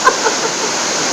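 Bridal Veil Falls in New Zealand, a 180 ft waterfall, roars as a steady, dense broadband wash of falling water, continuous and close with no pauses.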